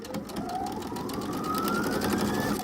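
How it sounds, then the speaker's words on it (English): Sewing machine running steadily along a seam in sheer voile fabric for a roman blind, a continuous close mechanical whir with a faint rising tone, no talking. "I'm going to actually sew along this little seam here"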